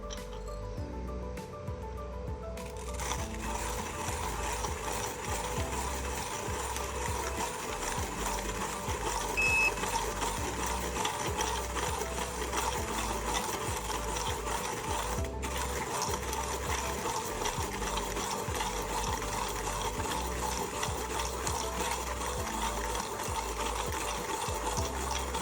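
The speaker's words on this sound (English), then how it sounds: "Now the C60 has 60mm burrs. This is a massive grinder, chunky, but it does grind really quickly." A C60 burr coffee grinder with 60mm burrs, a large chunky machine, grinds espresso beans in a steady, continuous whir that runs loud and close for the whole stretch with no talk over it.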